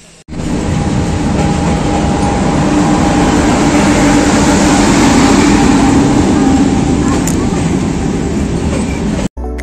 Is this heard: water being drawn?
no